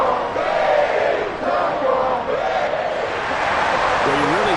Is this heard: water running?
no